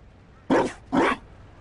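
Two short, close dog vocalizations from the video game Dragon Age: Inquisition, a pair of whimpering yelps heard alone over a quiet background.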